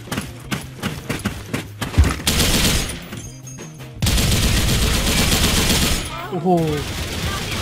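An RPK74 light machine gun fires in the game Special Force 2 in rapid bursts, loud and close with sharp impacts. Sustained fire follows a brief pause, and a man exclaims once.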